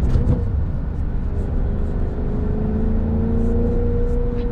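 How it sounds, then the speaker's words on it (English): Engine of a 2006 Maserati Quattroporte Sport GT rising in a sustained rev as the throttle is blipped on a downshift, a steady droning whir heard from inside the car with no talk. "Downshift it here, blip the throttle."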